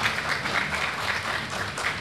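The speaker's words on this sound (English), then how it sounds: "what a cheap way to get us a round of applause" Convention crowd applauding at a Thundercats panel during Retro Con 2022, dense sustained clapping from a large audience, steady and loud with no pauses.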